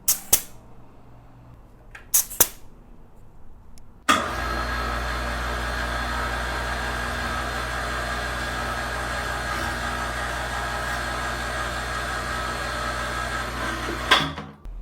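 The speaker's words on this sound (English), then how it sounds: "let's go ahead and add air to the tires" An electric air pump inflates the tires of an Ausom Gallop electric scooter, running as a loud, steady drone for about ten seconds after a few short clicks, then cutting off.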